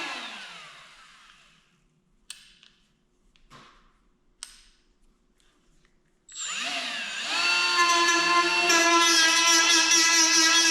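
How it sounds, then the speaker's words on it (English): A small power sander with a Scotch-Brite pad scuffing a surface starts abruptly partway through after a few scattered knocks, then runs loud and steady with a strong whining hum to the end. "I'm gonna go get a little sander"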